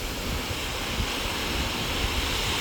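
Sea waves at high tide along the shore at Ras Al Khaimah wash in a steady, soft surf hiss mixed with breezy wind noise on the microphone.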